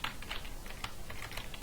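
Fast, quiet typing of text on a computer keyboard, with a close, steady run of light key clicks and no talk.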